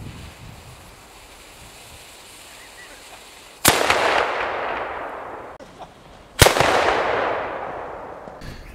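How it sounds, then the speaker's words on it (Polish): A small traditional firecracker blowing apart a raw 1.5-kilogram chicken: two sharp, loud bangs a few seconds apart, each trailing into a rushing noise decay, over a quiet outdoor-like background. "Do środka kurczaka wkładamy petardę."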